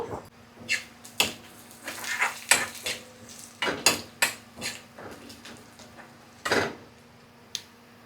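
Red chillies and panch phoron frying in a pan for dal, heard mostly as a string of irregular metal spoon scrapes and taps against the pan over a faint sizzle, close and moderately quiet.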